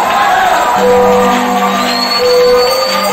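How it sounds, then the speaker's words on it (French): A church congregation shouts with joy, a dense continuous roar of many voices filling the space, loud and unbroken throughout with no single voice standing out. "Si vous croyez, poussez des cris de joie."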